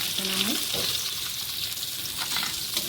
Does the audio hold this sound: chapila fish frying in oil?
yes